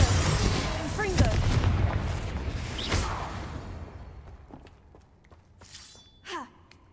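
Confringo fire-blast spell cast in the video game Hogwarts Legacy, a loud rumbling explosion with a long roaring decay fading over several seconds, followed by faint scattered game effects and brief vocal sounds.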